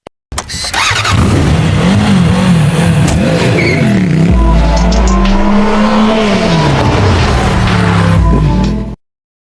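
A motorcycle ridden by a character in a film roars loudly, its engine rising and falling in pitch through repeated revs before cutting off abruptly.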